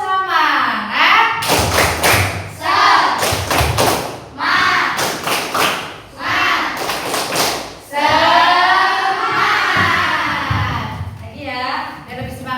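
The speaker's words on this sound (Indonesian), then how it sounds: "coba kita tepuk semangat" A classroom of children does a rhythmic spirit clap, loud patterned bursts of claps and thumps alternating with children's chanting voices, close and lively over about twelve seconds.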